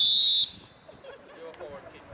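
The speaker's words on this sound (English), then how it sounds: "Blow the whistle, ref." Referee's whistle at a school tournament opening gives one short, piercing blast at the start, followed by quieter crowd murmur and background chatter.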